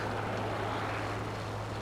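A propeller plane engine in the video game War Thunder, a Ki-61-I Hei Hien fighter, drones steadily, a continuous even hum with no breaks.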